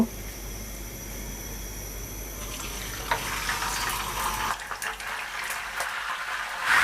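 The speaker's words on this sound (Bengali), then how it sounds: "চিকেনগুলোকে ভেজে নেওয়ার জন্য চুলা আমি একটা প্যানে 1 কাপ মতো তেল দিয়ে তেলটাকে গরম করে নিয়েছি" Chicken pieces going into about a cup of hot oil in a pan, a soft steady frying hiss that swells into a louder bright sizzle partway through.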